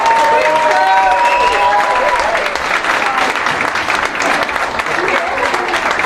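A crowd gives a round of applause for the player of the match after a 10-0 football win, loud continuous clapping with some cheering, and voices talking over it early on.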